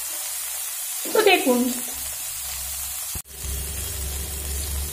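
Prawns sautéing in a pan for a Bengali ghatkol (kharkol) leaf and prawn paste dish, with a steady close sizzle and frying hiss under brief speech and a short clatter of stirring.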